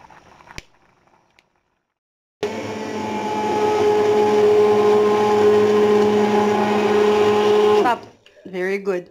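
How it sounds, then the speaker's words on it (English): A blender runs steadily for about five seconds, blending broccoli soup until creamy with a loud, even whirring hum, then stops abruptly; a voice speaks briefly before it starts and again after it stops. "Blending. So it will be creamy."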